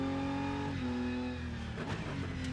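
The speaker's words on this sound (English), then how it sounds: "What do you guys say to this to the new BMW sound?" A BMW race car engine in the Rennsport racing game, revving continuously with a strong harmonic drone that dips briefly as it shifts, then climbs again, loud and close throughout with no voices.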